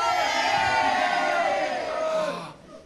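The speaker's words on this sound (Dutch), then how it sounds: "Kijk de mensen juichen." A large crowd cheers and shouts loudly and continuously during an outdoor Passion play performance, a dense wall of voices that tapers off slightly at the end.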